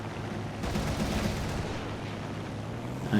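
Aircraft guns fire in the War Thunder game during a dogfight with an XP-50: a rapid burst rattles out over a steady droning engine, fairly loud against the hum, with no speech.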